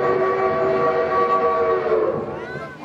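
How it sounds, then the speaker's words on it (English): A train horn or whistle sounds loud and sustained with rich, steady tones, then wavers and trails off briefly at the end. "I'd think about climbing aboard this train."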